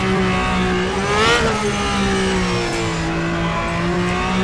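A Formula V12 race car in the racing game Game Stock Car 2013 on a Canadian circuit: a loud, continuous high-pitched V12 engine whine that swells briefly as the revs rise, then holds steady.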